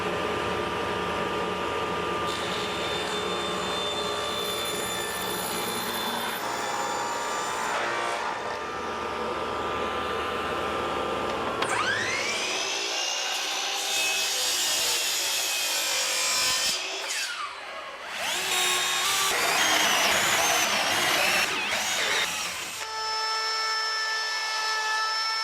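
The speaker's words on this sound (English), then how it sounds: "An actual cut using this Baltic birch to make permanent fence rails for the side of this" A table saw rips through Baltic birch plywood to make permanent fence rails, a loud steady whine and grinding cut that holds for several seconds, then spins down and rises again in bursts, with no talking.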